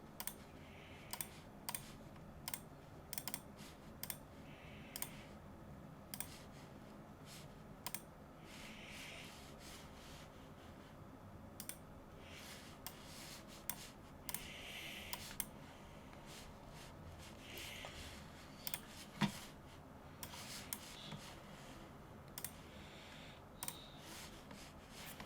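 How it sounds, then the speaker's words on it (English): Typing on a Weikav Nut65 keyboard fitted with KBDFans Roller Linear switches, a quiet run of close key presses with soft clacks and occasional louder strikes, no talking. "typing test"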